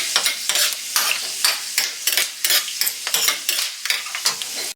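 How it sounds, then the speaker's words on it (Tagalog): Whole black peppercorns sauté in hot cooking oil, a bright, crackling sizzle broken by quick rhythmic stirring scrapes, close and fairly loud, with no voices. "Pamintang buo ang gamit ko rito ha. Igigisa din natin sa mantika para lumabas din ang aroma nito."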